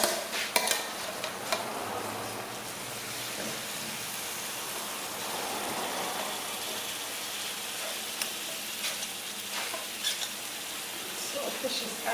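Saltfish sautéing in a pan in Jamaican home cooking, a soft steady sizzle with occasional stirring scrapes and clicks, fairly faint and close.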